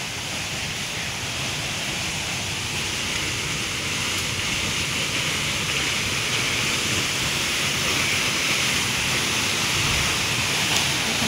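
A scenic waterfall roars steadily, water crashing down from a height in a broad, constant wash of noise that holds evenly throughout with no voices.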